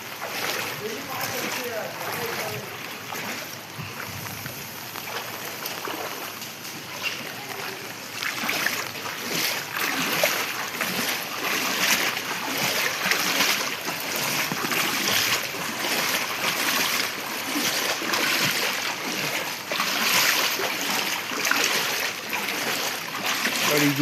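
Wading or driving through floodwater on a flooded street after heavy night rain, a dense wash of splashing and churning water that keeps going and swells louder, with talking mixed in.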